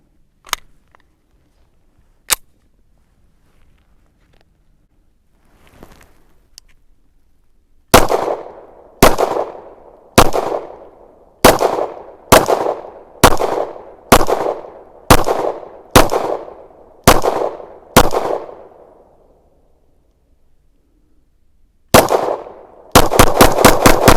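A Canik TP9DA 9mm pistol fired outdoors: a couple of isolated shots, then a steady string of about ten sharp reports at even intervals, followed by a rapid closing burst, each crack loud and close.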